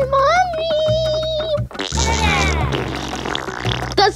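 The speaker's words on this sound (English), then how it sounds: "Yeah, she farted. You see the impact sound effect?" A cartoonish fart sound effect from a granny character in a Roblox nursery escape obby game, a short loud blast mixed with other game sounds and music.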